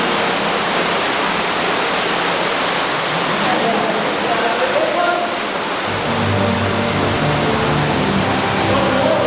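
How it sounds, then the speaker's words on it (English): Roaring rush of a huge underground waterfall inside Ruby Falls cave in Chattanooga, a loud constant wash of falling water echoing in the cavern, with a voice speaking faintly beneath it. "at the end of it, we'll have a huge waterfall"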